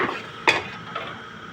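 Cashews frying in ghee in a pan for a birthday biryani, a soft steady sizzle with a sharp stir or utensil clatter midway and a fainter one later, no talk.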